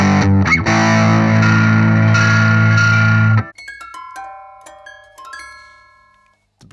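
A 2021 Ibanez AMH-90 CRF hollowbody electric guitar played through distortion: a loud, sustained overdriven rock chord rings for several seconds, then stops and gives way to scattered, quieter ringing notes plucked behind the bridge that fade out.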